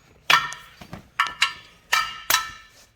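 A hammer taps metal parts on the front wheel of a Massey tractor during a tire change, six sharp ringing strikes in uneven pairs, close and clear with no talking.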